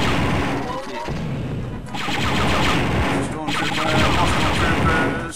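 Rapid automatic gunfire cutting down stormtroopers in the Star Wars: Dark Forces shooter, set in the Gromas Mines; dense, continuous bursts of shots with brief pauses, loud and close throughout.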